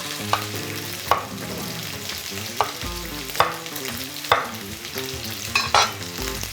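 Chicken pieces searing in a pan for a tomato stew, a busy sizzle with occasional stirring knocks, set under loud background music.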